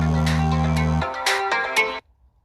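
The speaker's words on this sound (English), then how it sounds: "my blooming brother's ringing me." A phone ringtone plays a melodic electronic tune for about two seconds, loud and close, then stops abruptly.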